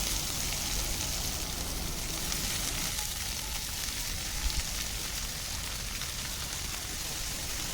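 Onions and green chili frying in hot oil in a pan for an egg roast, giving a steady, close sizzle that holds at an even level without a break, no voices over it.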